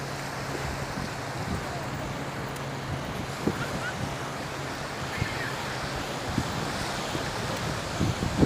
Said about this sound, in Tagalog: Ang ganda rin yung medyo may alon ng konti.